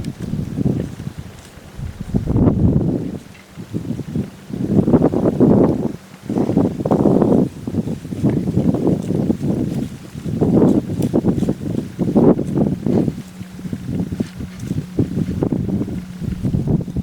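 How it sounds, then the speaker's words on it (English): Breezy afternoon wind outdoors during a late-season hunt, gusting buffets and rumbles rising and falling in irregular waves across the whole stretch, close and fairly loud. "It's still just a little bit breezy this afternoon, but the wind is perfect for us."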